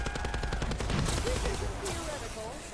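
Rapid gunfire in the zombies mode of Call of Duty Black Ops 4, loud automatic bursts firing in quick repeated cracks across the whole moment, with game sounds and voices mixed in.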